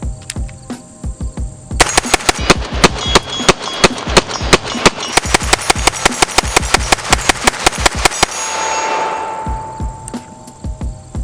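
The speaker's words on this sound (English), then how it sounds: "now that the sun's out again, I guess we can use that as an excuse for a mag dump" A CMMG Banshee MK10 in 10mm fires a fast magazine dump outdoors, a long string of loud sharp shots in quick rhythm ending in a brief echoing decay.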